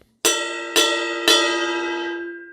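Three ringing strikes on the bell of a 22-inch Sabian Paragon ride cymbal, evenly spaced, each a bright, clear ping that sustains and overlaps into a long shimmering decay.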